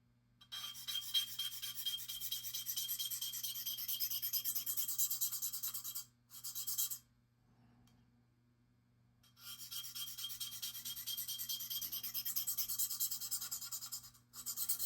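A knife blade is drawn across a fine DMT diamond sharpening stone in close, steady rasping strokes, with two brief pauses between runs and a faint low hum underneath.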